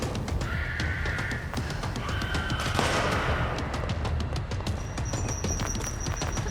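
Gunfire in the video game Control: dense, rapid bursts of shots crackle steadily throughout at close range, with occasional sharp high-pitched cries layered on top and no talking.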